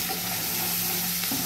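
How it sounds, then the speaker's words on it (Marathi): Coconut paste frying in oil for misal, a dense, steady sizzle that fills the whole moment without a break, close and loud. "खोबऱ्याची पेस्ट केली आहे ती तेलात चांगली फ्राय करायची"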